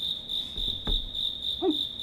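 A cricket chirps in a steady, loud, unbroken high trill, with a couple of brief faint knocks and noises beneath it.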